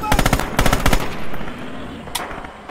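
Machine gun fire in Red Orchestra 2: two close, loud rapid bursts of automatic shots, then a lingering echo and a single sharp later report.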